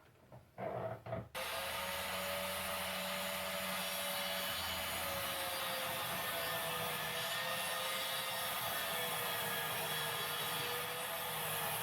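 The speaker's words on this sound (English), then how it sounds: "I've angled the chop saw 45 degrees, and I'm going to cut the first" A chop saw cuts a wooden picture frame piece at a 45-degree angle: a short startup, then a steady loud whining motor and blade grind that runs continuously throughout, close to the microphone.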